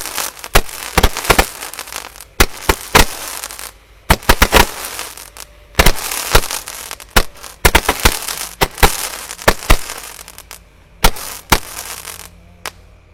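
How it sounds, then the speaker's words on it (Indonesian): Five Roman candle fireworks fire together at night during Ramadan, a rapid irregular barrage of loud sharp bangs and pops in clusters, with brief pauses and a crackling tail. "sudah menyala semuanya ya Romaine candle Prete-nya 5 sekaligus"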